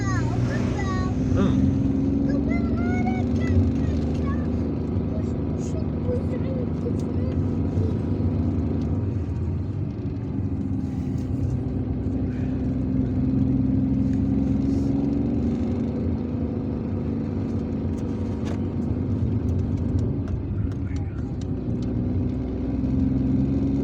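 A car engine drones steadily in second gear along a narrow road in Algeria, with a low rumble and road noise running throughout; a few faint squeaks come near the start.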